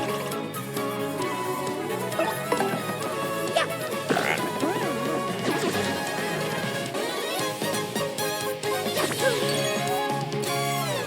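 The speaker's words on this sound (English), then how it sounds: "only Mario's attacks make the frog sound effects" Paper Mario: The Thousand-Year Door game audio, with frog-like croaking sound effects from Mario's attacks layered over busy background music and battle hits, loud and continuous.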